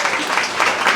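Audience applause at a bike storytelling night in a brewery, a steady dense wash of clapping filling the room without a break.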